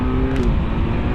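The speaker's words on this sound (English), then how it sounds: "all these downshifts are really clunky with the auto blipper" Engine of a 2025 Kawasaki Z900 SE motorcycle downshifting with an auto blipper, a loud, steady close-up drone with a brief rise in revs partway through.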